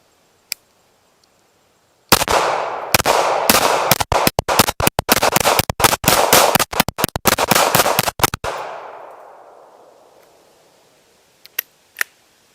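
Kel-Tec PMR30 .22 Magnum pistol fires a fast string of about two dozen sharp, loud shots over roughly six seconds. The rhythm is uneven, a reverberant tail follows, and a few isolated shots come before and after the string.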